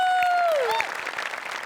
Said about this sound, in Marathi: गणेश पाजींसाठी एकदा जोरदार टाळ्या.